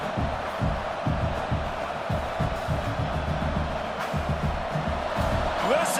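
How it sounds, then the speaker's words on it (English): A packed stadium crowd roars to spur on its defense at a college football game, Penn State versus LSU, a steady dense wall of cheering with surging rumbles, loud and continuous, without clear talk over it. "Listen to this crowd just shaking the girders of this place, trying to help their defense."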